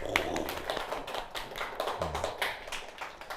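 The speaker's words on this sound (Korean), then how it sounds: "박수!" Clapping from a classroom of students during an advanced chemistry lesson at a science high school, a quiet, irregular patter of hand claps lasting a few seconds with no talk over it.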